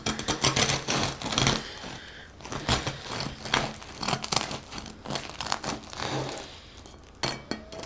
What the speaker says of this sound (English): So I'm going to cut into it and see how it turned out.